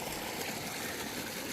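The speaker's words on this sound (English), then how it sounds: "here we are at the flume, and running good here, and the creek is running real big down there still." Creek water running high and loud through a ditch flume, a steady broadband rush with no pauses, close by and alone.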